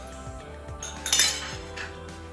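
Spices are mixed into chaap on a plate, giving light clinks of utensil against the plate, a brighter cluster of taps in the middle, with no talking.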